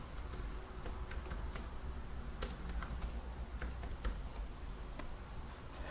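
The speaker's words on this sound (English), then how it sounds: "Type in the company name." Fast, steady tapping on a computer keyboard while a company name is entered, close and quiet, with a few louder key strikes and a soft background hiss.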